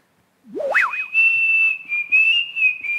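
A single person whistles a sustained high tone, starting with a quick rising-falling warble before holding a steady pitch with slight wavers, close and clear.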